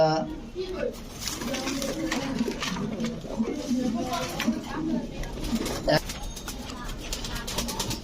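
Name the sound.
pigeons cooing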